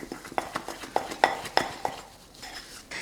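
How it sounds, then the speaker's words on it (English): A utensil stirs coloured buttercream in bowls, producing a rhythmic series of light clinks and scrapes against the bowl, fairly close and soft, with no talking over it. "I'm then gonna mix that through each of my bowls."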